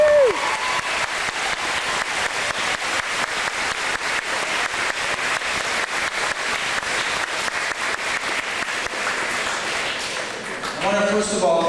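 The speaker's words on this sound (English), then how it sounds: "Let's give Mr. Griffith another round of applause." A crowd at a Kristopher's Wish charity stop in Niagara Falls, Ontario claps in a long, dense round of applause, steady and loud throughout, tapering off near the end as a voice begins.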